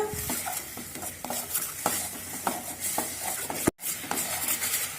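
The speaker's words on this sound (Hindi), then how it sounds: "अब इसमें हरी चटनी डाल देंगे और इन्हें मिक्स कर लेंगे" Fried onions with green chutney are stirred in a pan while making poha, giving repeated rhythmic scraping strokes of a spoon over a steady sizzle, cut by one sharp clatter near the end.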